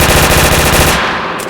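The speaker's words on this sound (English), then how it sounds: "shooting their gun" Rapid automatic gunfire from a video game rattles loud and close in a fast regular burst, then cuts off into a short fading tail.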